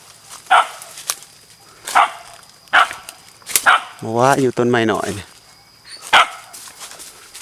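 Dogs bark in sharp separate bursts at a creature up in a tree in a rural Thai forest, with a few barks spread across the scene and a longer whining, yelping stretch in the middle, while people talk throughout.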